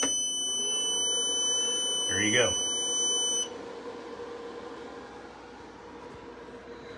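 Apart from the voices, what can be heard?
battery backup controllers beeping after grid power loss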